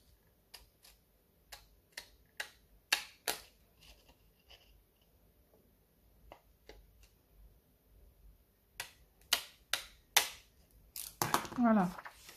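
Scissors cutting paper for an ATC-style ticket craft, a series of sharp, close snips and clicks in irregular bursts, with quieter pauses between, ending in a louder rustle of paper handling.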